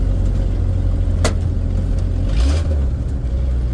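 1976 Ford F-250 with a manual transmission, engine droning steadily inside the cab, a brief rev and a dip as gears are floated, loud and close with no talk.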